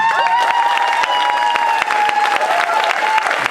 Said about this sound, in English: the cheering crowd right here, like he's never left